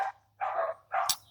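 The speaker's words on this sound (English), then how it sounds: "Those dogs sometimes just sit there for like 5 hours just going yap, yap, yap, yap, right?" A dog barks three times in a steady rhythm: sharp, mid-loud yaps spaced about half a second apart, with quiet gaps and a faint low hum between them.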